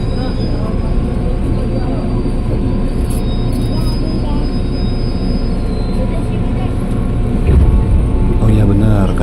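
A KRL commuter train rolls into Tiga Raksa station with a loud continuous rumble of wheels on rails, squealing faintly near the end, while a voice talks over it.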